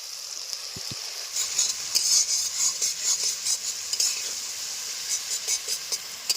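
Chopped onion and onion-garlic paste frying in a village-style pan for an egg omelette masala curry, with a steady close sizzle and hiss broken by repeated scraping stirs and a couple of early taps.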